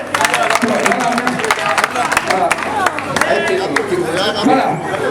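A crowd applauds at an outdoor donation ceremony before a football match, with steady clapping mixed into hubbub and loud nearby speech throughout.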